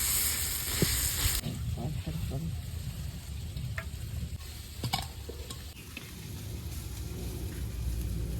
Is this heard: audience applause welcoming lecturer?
no